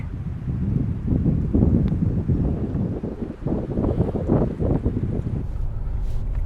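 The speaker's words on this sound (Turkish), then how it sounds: "Ve hala şiddetli bir rüzgar var." Strong wind gusting and roaring against the microphone during a large wildfire in Çanakkale, Turkey, loud low rumbling that rises and falls, with no voices.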